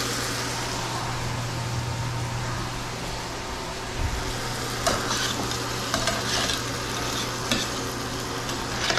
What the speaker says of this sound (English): All right, and then we're gonna stir it.